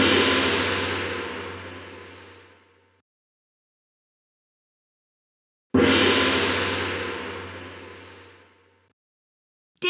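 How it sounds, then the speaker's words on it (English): A gong in a children's music video game is struck twice, each hit a loud, full crash that shimmers and fades over a few seconds before silence. "Ding dong, you found the gong."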